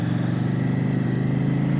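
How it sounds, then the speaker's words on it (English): A 2024 CFMOTO 800NK Sport motorcycle in street mode gives a steady, loud engine drone with a rapid pulsing note, heard close throughout with no clear rise in pitch. "The sound is addicting on this bike."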